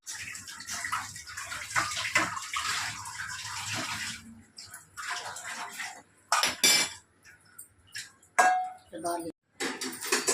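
Dishes being washed under a running tap at home: a steady gush of water with clinks and clatters of plates and utensils, then broken splashes and knocks as people talk.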